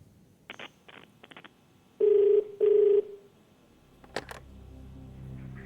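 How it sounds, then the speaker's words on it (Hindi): A landline telephone call is placed on a television quiz show. A quick string of dialing tones plays first, then two loud, steady ringback tones, followed by a click as the line picks up and a low hum. "फोन लगाया जाए इन्हें।"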